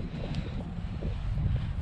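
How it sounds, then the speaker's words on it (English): Brisk wind blows outdoors on a homestead, producing a continuous low, rumbling buffet against the microphone with no talking. "That wind is a bit brisk."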